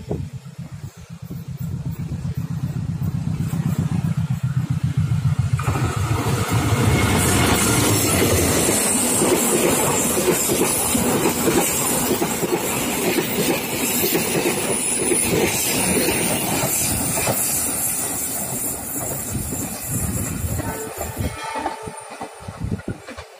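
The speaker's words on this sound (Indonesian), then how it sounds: "akan mengabadikan kereta api Argo Parahyangan 52" A passenger train, the Argo Parahyangan, rumbles past close by in Indonesia, a long steady roar of rolling wagons that builds after a quieter start and fades near the end.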